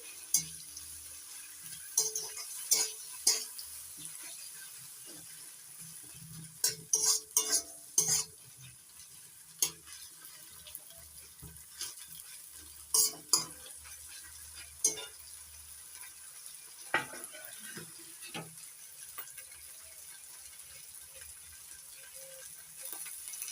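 Chopped tomato being stirred into frying ginger-garlic paste in a pan: a soft steady sizzle under repeated scrapes and clinks of a spatula against the metal, close and fairly quiet.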